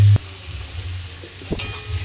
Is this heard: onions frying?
yes